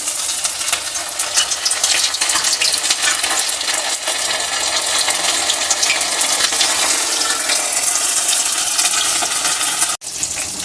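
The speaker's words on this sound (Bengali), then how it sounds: "বিস্কুটের গুঁড়োর সাথে মিশিয়ে নিয়ে আমরা তেলে ছেড়ে দেবো।" Fish pakoras of lotia fish coated in biscuit crumbs frying in hot oil, a loud continuous bubbling sizzle close up, steady throughout with a brief dropout near the end and no talking.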